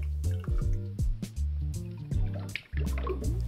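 Lime juice is squeezed by hand into a measure for a cocktail, giving wet squishing and dripping sounds in short bursts with liquid splashing close by.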